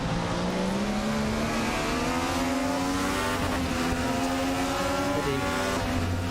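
A 1995 DTM touring car at Hockenheim roars loudly and continuously as it brakes hard into a corner, the engine note sliding down and back up through the gears with a faint squeal of tyres.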